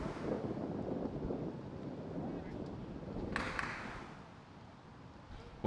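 Wind blowing across an outdoor schools rugby pitch, a steady buffeting roar against the microphone, with faint crowd or talk underneath.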